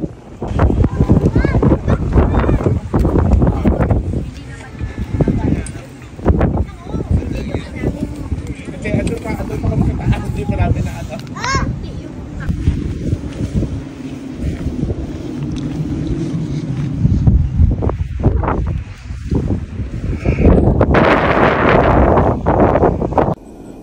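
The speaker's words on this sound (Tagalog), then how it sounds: "na-experience namin na sobrang lakas ng hangin" Loud, continuous mountain wind roars and buffets the microphone throughout at a campsite in Atok, Benguet, with people talking underneath the gusts.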